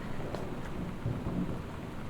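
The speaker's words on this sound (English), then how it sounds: "Did I just see rain?" Steady rain with a low rumble of thunder in the video game Gone Home, a continuous dense wash of falling water that holds at an even level throughout with no voices.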